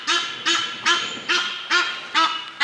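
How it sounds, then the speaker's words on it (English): Egyptian goose honking as it lands, six loud, evenly spaced nasal honks in a steady rhythm, close by with no talk. "Egyptian goose just came in and landed."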